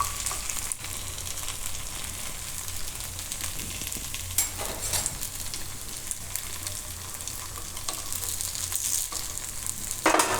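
Sabudana appe fry in the wells of an appe pan with a continuous close sizzle. A few scraping clicks are heard as they are turned over. No one speaks.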